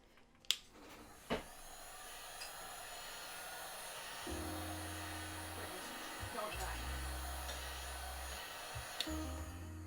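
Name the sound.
heat gun heating a foam bracer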